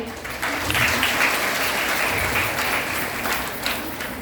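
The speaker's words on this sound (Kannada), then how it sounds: "ಜೋರಾದ ಚಪ್ಪಾಳೆ ಬರಲಿ." An audience at a college prize ceremony in Gadag district claps loudly and continuously, a dense crowd applause that holds steady throughout with no voices over it.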